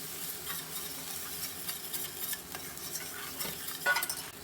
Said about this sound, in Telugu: ఈ అల్లం వెల్లుల్లిపాయ పేస్ట్ని కూడా ఒకసారి బాగా ఫ్రై చేసుకుందాము